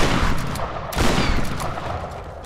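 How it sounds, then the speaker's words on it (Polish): Two loud shotgun blasts in the video game Tomb Raider, about a second apart, each a heavy boom over dense, noisy game sound. "2 strzały strzelbą."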